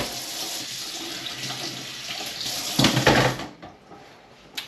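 Tap water runs steadily into a sink as hands are washed in a home kitchen while cooking steak, sweet potato fries and chimichurri, a broad even rush that surges briefly louder before cutting off.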